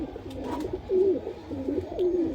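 High-flyer pigeons, including closed-tail birds, coo softly and repeatedly in low, throaty rolling calls, close by, with faint rustling in the background.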